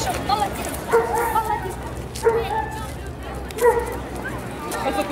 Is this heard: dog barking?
yes